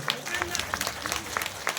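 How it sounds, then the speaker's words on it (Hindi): An audience at a Ramlila stage performance claps loudly, with sharp irregular hand claps scattered over a steady crowd noise and a voice speaking over it. "और एक बार जोरदार ताली"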